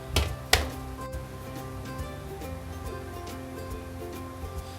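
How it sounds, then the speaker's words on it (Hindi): Two sharp taps ring out near the start as minced meat kofta mixture is pressed and patted to push out air, followed by softer faint handling sounds over a low background hum. "मैं अभी अपने मीट को मिक्सचर को जो है उसे मैं टैप कर रहा हूँ ताकि इसके अंदर का जितना हवा है वो बाहर निकल जाए"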